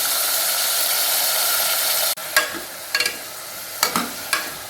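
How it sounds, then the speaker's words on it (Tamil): Carrot and chayote sautéing in a pan for idli dhal: a steady, close hiss of sizzling oil that cuts off abruptly, followed by several sharp scrapes and taps of a utensil stirring the vegetables. "கேரட்டு, சௌச்சௌ எல்லாத்தையும் ஒன்றா போட்டே வதக்கலாம்"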